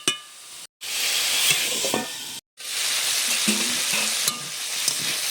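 Winter vegetables and small river tengra fish stirred in a hot pan, a loud continuous sizzle with spatula scrapes and clicks, twice cut by brief silences.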